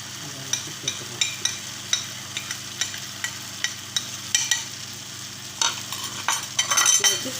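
A spoon stirs chili powder and coriander powder in a pan, its repeated taps and scrapes falling at an irregular pace over a low sizzle and building into busier scraping at the end.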